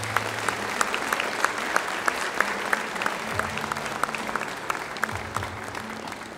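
Sustained audience applause at a school ceremony in Brodnica, a dense steady patter of many hands clapping for the full stretch, with faint crowd murmur underneath.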